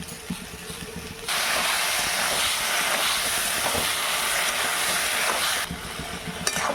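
Spices with salt and ground pepper fry in a pan for chickpea ghugni, giving a loud, steady hiss that starts suddenly and holds for several seconds before dropping back to quieter background clatter.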